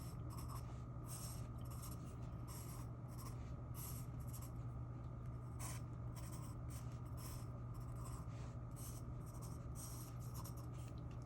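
Someone draws a stick figure on paper with ovals for the chest and hip. Soft, quiet scratching strokes repeat in a steady rhythm, close and alone.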